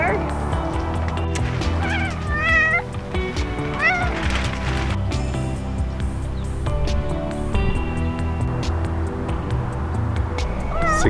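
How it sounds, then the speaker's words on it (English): A cat meows repeatedly in drawn-out, wavering cries indoors while a person talks over it; a windstorm is blowing outside. "You're being a bad cat."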